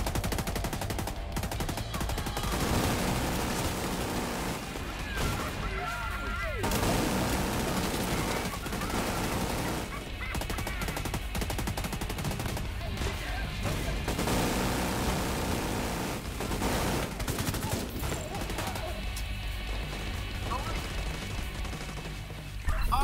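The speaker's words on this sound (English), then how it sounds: "Grenade launch!" Gunfire and a grenade launch in The Division 2, a dense, steady stream of shots and blasts running without a break, loud and close, with game voices sometimes under the shooting.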